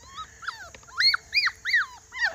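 A litter of young puppies whimpers and yips up close, with several high, rising-and-falling cries coming in quick bursts and short pauses between them.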